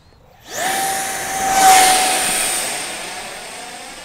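An Eachine F-18 50mm EDF RC jet on its maiden flight spools up to a loud, whining ducted-fan roar that rises quickly, holds a high steady pitch and swells briefly as it passes close.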